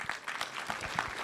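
Audience applause in a conference hall at Job Day Sardegna 2024 in Cagliari, a short, steady burst of many hands clapping filling the room.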